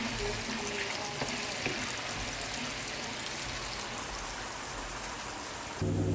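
Shrimp fry in a pan at home with a steady, dense crackling sizzle that runs without a break. The sizzle grows slightly louder near the end.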